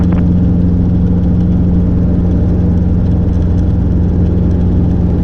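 Robinson R-22 helicopter in flight during a training lesson, a loud, steady engine and rotor drone with a strong low hum that runs without a break and has no talk over it.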